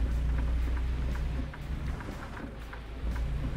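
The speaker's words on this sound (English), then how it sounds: "This rain is absolutely horrible" Steady heavy rain drums on a truck cab in American Truck Simulator, a dense continuous hiss over a low rumble of the engine, loud and unbroken throughout, no one talking.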